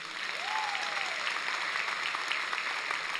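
An audience at a talk applauds all the mothers and fathers raising their children, a soft, steady crowd clapping heard from a distance, with a brief whistle-like tone near the start.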